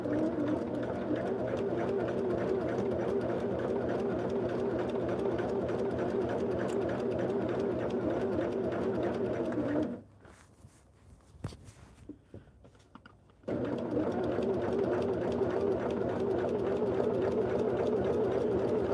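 A sewing machine stitches around the bottom hem of a sweatshirt with a steady, close whirring hum that pauses for a few seconds midway and then resumes, with no talking.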